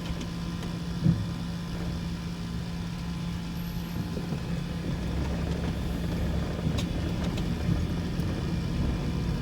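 A van with an engine fault runs while driving, giving a continuous low rumbling drone with a steady hum and faint rattling, constant in level with no talk over it.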